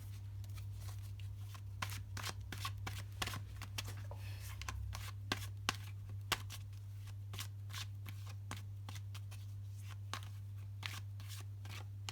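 Tarot cards are shuffled by hand in a quiet room, soft riffling snaps and taps repeating steadily over a low electrical hum.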